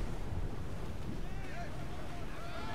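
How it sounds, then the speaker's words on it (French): Steady wind and rushing water at sea while sailing a ship in Assassin's Creed Odyssey, a continuous broadband roar with faint creaks, even in level throughout. "Vous sentez ce vent ?"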